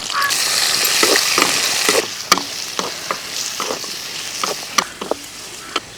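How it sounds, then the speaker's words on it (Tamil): Capsicum sautéing in a pan for a gravy: a steady, close frying sizzle, broken by repeated sharp scrapes and taps as a spatula stirs it. "இப்போ குடமிளகாய் சேர்த்துக்கலாங்க இப்போ மிளகாய் போட்டு ரொம்ப வதக்கக்கூடாதுங்க"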